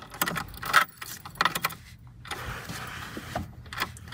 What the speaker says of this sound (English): let's turn the key to on